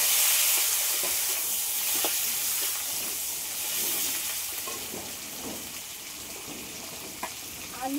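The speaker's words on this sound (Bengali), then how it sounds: "পাঁচ ফোড়ন, এবার এই মাছের তেলটাও দিয়ে দেবো।" Panch phoron spices sizzling in hot fish oil, a continuous soft hiss and crackle with faint scattered pops, heard up close without talk.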